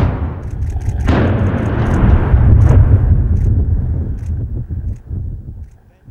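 A controlled explosion aboard the stranded container ship MSC Napoli off the East Devon coast. It is heard from a distance as a deep, rolling rumble that swells after a sharp onset and slowly fades.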